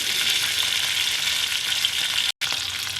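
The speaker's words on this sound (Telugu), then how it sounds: "బెండకాయని కూడా కొంచెం ఫ్రై అవనిద్దాం." Okra pieces fry in oil in a pan while a mango and okra tamarind stew is cooked, giving a continuous, close, loud sizzle that cuts out for a brief moment near the end.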